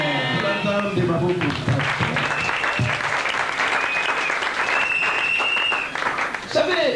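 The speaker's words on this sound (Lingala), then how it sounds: "acclamez très fort" An audience at a prosperity and financial education seminar claps loudly in a dense, sustained burst of applause. Some voices and cheers rise within it, and it thins toward the end.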